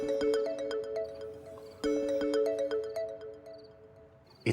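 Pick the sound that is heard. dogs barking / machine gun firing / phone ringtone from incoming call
phone ringtone from incoming call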